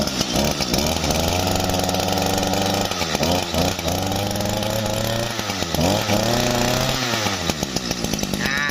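A used Japanese Echo brush cutter with a small two-stroke engine revs hard and loud, whining up and down in repeated throttle bursts with brief dips between them, close to the microphone.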